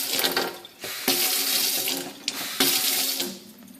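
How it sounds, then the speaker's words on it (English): A kitchen faucet runs in strong bursts, water splashing loudly into the sink, pausing briefly between surges, close and alone. "The faucet works."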